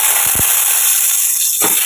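Nigella seeds and dried red chilli crackle in hot oil in a home kitchen, a loud, continuous close hiss with a few soft knocks at the start and again near the end.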